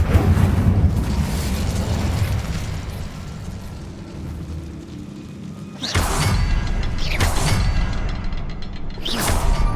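A fire spell cast in the Hogwarts Legacy video game gives a sustained roaring blast of flame that swells and fades, followed by several sharp whooshing bursts near the end, loud and close, with no talk over it.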